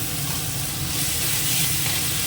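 Steady broadband sizzle of fish head frying in a pan for Bengali home cooking, a continuous close hiss with a low bubbling undertone, no talking.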